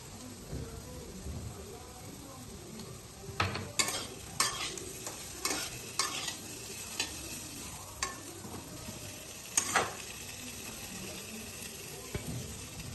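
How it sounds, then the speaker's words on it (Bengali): Papaya and potato curry stirred in a pan, giving scattered spoon scrapes and soft knocks over a low, steady simmer. "পেঁপে আলুটা আমার নাড়া হয়ে গেছে।"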